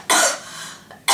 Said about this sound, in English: It gives me a coughing attack.